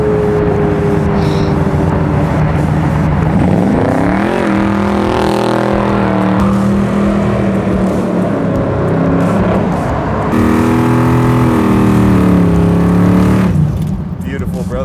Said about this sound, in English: I'm assuming you're cool with one burnout